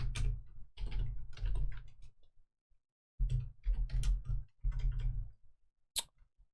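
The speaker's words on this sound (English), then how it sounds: "I'm typing caps here." Typing on a computer keyboard during a live stream, heard as close, clattering bursts of keystrokes separated by short pauses, with a brief gap in the middle and a final sharp tap.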